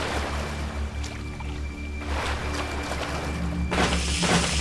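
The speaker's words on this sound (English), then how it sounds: "There's something splashing in the water." Water splashes and sloshes in a flooded area of the video game Bioshock, over a constant low mechanical drone, with two louder surging splashes near the middle and the end.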